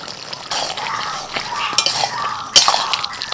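A spoon stirs and scrapes through mixed vegetable curry in a pan, with sugar, garam masala powder and ghee just added. Steady close scraping carries a soft sizzle, broken by a few sharp metallic clinks against the pan.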